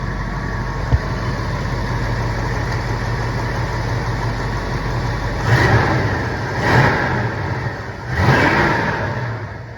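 A 1968 Plymouth Barracuda hardtop coupe with a 317ci V8 idles loud and close with a steady, even rumble, then is blipped in three short revs near the end.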